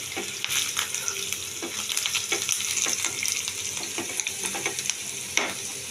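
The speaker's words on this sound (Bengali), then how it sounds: "আর একটু বাটার দিয়ে দিয়েছি দেখুন এটাকে ভালো করে ভাজবো ভেজে কাঁচা লঙ্কা দিয়ে দিয়েছি দুটো" Garlic and two green chillies fry in oil and butter in a pan for garlic chicken. A close, continuous sizzle is broken by repeated stirring scrapes, and no voices are heard.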